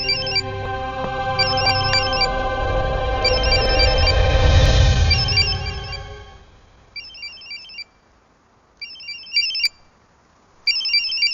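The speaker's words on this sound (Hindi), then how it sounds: "कोई फोन बज रहा है।" A telephone rings with a repeating electronic ringtone in short bursts, at first over a swelling, droning background that fades away, then sounding alone between silent gaps.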